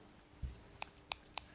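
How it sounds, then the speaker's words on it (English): Three quick crisp snips of fringe scissors cutting paper, evenly spaced and close, after a soft dull thud, with no voices. "These are these fringe scissors as well, which I know lots of you absolutely love"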